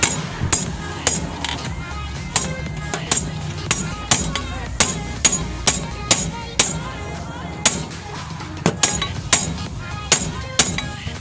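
Steady hammer blows drive a replacement kingpin into place, sharp metallic strikes repeating roughly every half second, loud and close over a low workshop hum.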